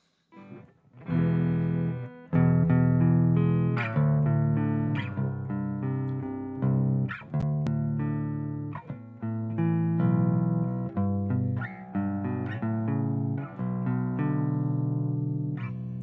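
A clean PRS Private Stock Custom 24 seven-string electric guitar plays picked notes and chords without distortion or effects, ringing clearly with short pauses between phrases, alone with no voices.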